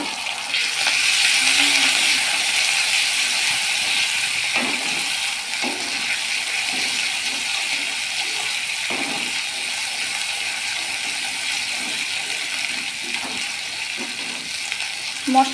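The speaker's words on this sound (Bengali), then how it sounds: "মশলাটা ভালো করে কষিয়ে নেব।" A ground spice paste of ginger, cumin and coriander fries in a pan with a steady loud sizzle, while a utensil scrapes and stirs it in intermittent soft knocks.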